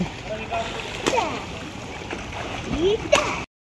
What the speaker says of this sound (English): So it's Gerard Richie turn to swim.